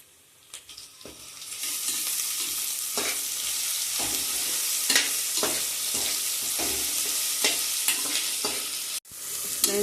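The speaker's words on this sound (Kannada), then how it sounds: "ಶುಂಠಿ ಬೆಳ್ಳುಳ್ಳಿ ಎಲ್ಲ ಹಸಿ ಸ್ಮೆಲ್ ಹೋಗೋವರೆಗೂ ನಾವು ಸ್ವಲ್ಪ ಫ್ರೈ ಮಾಡಬೇಕು" Ginger garlic paste fries in a pan with a steady, close sizzle, broken by repeated scraping strokes of a stirring spoon, with no talking.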